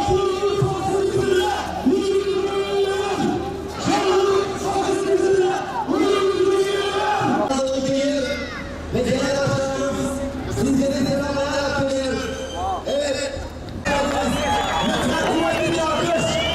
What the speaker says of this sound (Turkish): Sizlerden ricamız bu kuvvetli alkışlarınızı zaman zaman eksiltmeyin